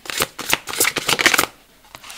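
Tarot cards are shuffled by hand in quick riffling bursts, a close crisp flurry of card slaps that stops partway, then one last soft flick.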